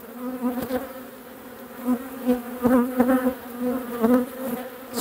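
Agitated honeybees buzz loudly at an open hive during a spring apiary inspection, a dense, steady drone with surging swells and sharp individual passes close by.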